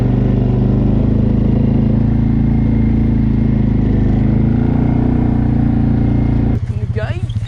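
A loud quad bike engine drones steadily as the vehicle drives off across a field, a thick low rumble that holds for several seconds before the tone shifts near the end.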